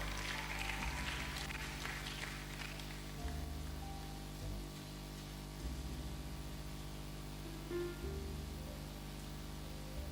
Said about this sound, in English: a round of applause for our director.